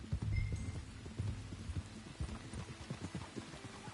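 Rain patters in Red Dead Redemption 2 near a creek, a soft wash beneath repeated low thudding hoof-like clops, with no speech.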